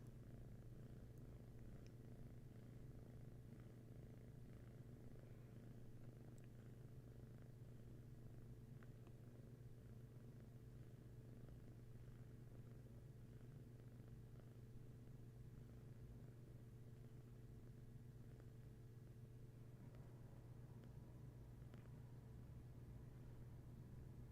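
A cat purrs softly and continuously, a low steady rumble heard up close, faint and unbroken for the whole stretch with no talking.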